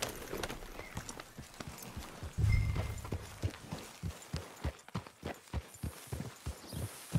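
Horse hooves clip-clop in a steady, close rhythm in the game Red Dead Redemption 2, with a brief low thump partway through and no talk over them.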